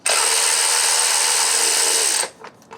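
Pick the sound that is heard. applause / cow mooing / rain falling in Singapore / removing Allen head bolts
removing Allen head bolts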